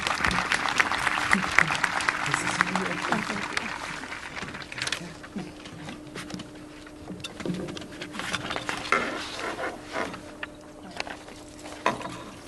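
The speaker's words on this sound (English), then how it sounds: "Please welcome Elena to the podium." Graduation ceremony crowd applauding a speaker, a steady wash of dense clapping that holds for about twelve seconds with some swelling and fading, heard from a distance in a large space.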